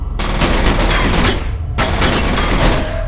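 Rapid gunfire from the video game F.E.A.R., loud and dense with sustained automatic bursts that briefly cut out and resume, with no talk over it.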